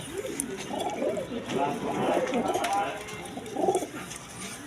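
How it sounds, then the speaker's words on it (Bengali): Blue bar Shorting pigeons coo in a low, rolling series of soft murmurs that swell and fade through the whole stretch, close by, over a light hiss from the loft. "প্রথমে এক পেয়ার কবুতর শুরু করলাম শার্টিং দিয়ে ব্লু বার শার্টিং দেখেন একদম কোয়ালিটি সম্পন্ন কবুতর"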